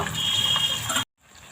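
Water pours into a pan of spiced pabda fish curry with a steady, close splashing gush for about a second, then stops abruptly, no talking over it.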